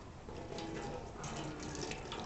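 Liquid is poured from a container into a funnel while bugs are being collected, a steady close trickle and splash that thickens slightly midway through.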